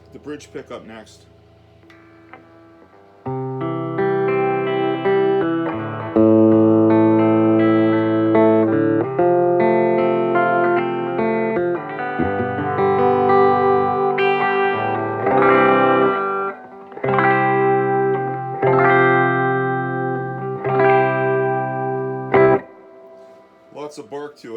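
A Les Paul guitar switched to the bridge pickup plays a run of notes and chords through a Fender Vibrolux Custom '68 reissue amp, brighter and sharper in tone, beginning after a quiet moment and ringing loud and close throughout.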